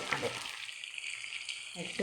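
Food fries loudly in a wok, a dense, steady sizzle close up with a brief clatter at the start and end.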